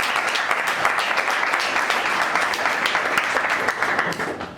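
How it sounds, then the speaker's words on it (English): Audience at an evening sales meetup on channel sales giving the panel and its moderator a warm round of applause, dense and steady clapping from a crowd, moderately loud throughout. "let's give a warm round of applause to our panel tonight"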